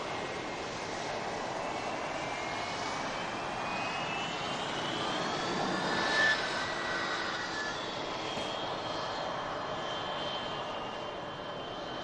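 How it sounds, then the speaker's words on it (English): An Etihad Boeing 777-300 jet departs Manchester Airport, a steady, loud engine roar with a rising whine that swells slightly near the middle and holds for the whole stretch. "Etihad 777-300 heading out to Abu Dhabi"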